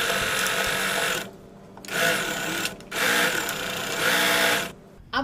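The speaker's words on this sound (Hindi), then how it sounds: "यहाँ पर एक और सिलाई लगा देंगे, इस तरह लगानी है, इस पाइपिंग के किनारे किनारे से लगानी है।" A sewing machine stitches piping along a garment neckline edge, running in three steady bursts of fast mechanical whirring separated by short pauses, close and loud with no talking.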